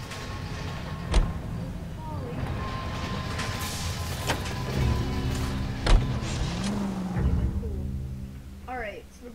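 A car engine hums steadily while being driven in the 1940s crime game L.A. Noire, with a few sharp knocks and bumps, under near-constant talk from players.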